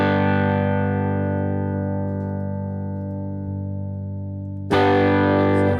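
Electric guitar played through Logic amp modeling with a switched microphone, a sustained distorted chord ringing and slowly fading, then a fresh loud strum near the end, alone with no talk.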